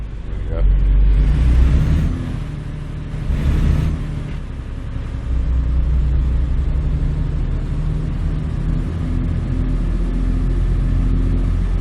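A heavy truck engine in American Truck Simulator rumbles deep and loud as the rig pulls away, its revving swelling briefly, dipping, then settling into a steady low drone.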